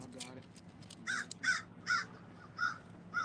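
A crow caws at an outdoor camp in New Orleans, giving about six loud, evenly spaced harsh caws over quiet background talk.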